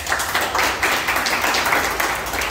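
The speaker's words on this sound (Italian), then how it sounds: "vogliamo fare a loro un grande applauso" Steady applause from a crowd, dense clapping filling the whole stretch at a fairly loud, even level.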